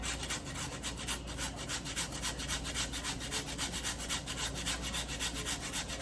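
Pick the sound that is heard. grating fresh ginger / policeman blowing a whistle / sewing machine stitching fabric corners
grating fresh ginger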